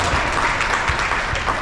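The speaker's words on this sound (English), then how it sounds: "More clapping, please." An audience claps through a sheriff's keynote speech, a dense steady wash of applause filling the room, loud and continuous with no clear voice on top.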